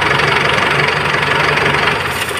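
Isuzu 4JJ1 diesel engine with a smoky, oily condition, running loud and close with a steady rough idle clatter that begins to fade at the end as it is switched off.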